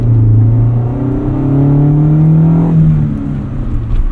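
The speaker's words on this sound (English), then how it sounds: "just a quick drive on this 88 CRX SI today" A 1988 Honda CRX Si, the first Sport Injection model, drives with its engine droning steadily close by, pitch rising smoothly as it accelerates through a gear, then dropping off and settling lower near the end.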